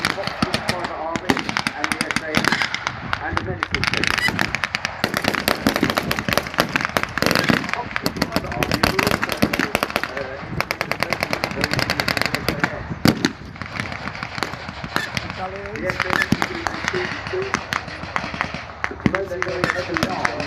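A WW2 Africa battle re-enactment at a military show fills the air with dense, rapid rifle and machine-gun fire mixed with blasts, crackling continuously and loudly for the whole stretch with no pause.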